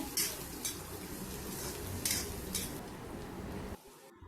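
Sliced onions sauté in a pan for kulambu and are stirred, giving a steady close sizzle with repeated metallic scrapes of the spoon. The sound stops abruptly near the end.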